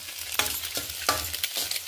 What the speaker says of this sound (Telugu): ఎగ్గుని ఇలా ఫ్రై చేసుకోవాలండి.